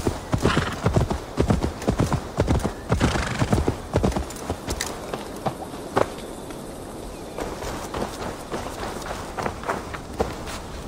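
Horse hooves clip-clopping in the video game Assassin's Creed Valhalla, with a rapid run that slows to a walking beat and an occasional whinny, fairly close.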